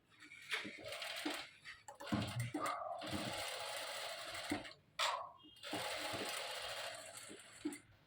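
A sewing machine stitches along a saree while a dress is being made. The rapid mechanical whirring comes in runs of several seconds, broken by brief pauses and knocks.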